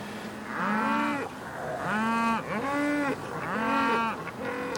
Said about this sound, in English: Cattle. Thirsty brutes, sir.